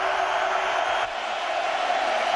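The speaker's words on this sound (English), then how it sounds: "this crowd is loud" Roaring crowd noise at a 2006 Oklahoma at Oregon college football game, a dense, loud and continuous wash of cheering from a packed stadium with no distinct pauses.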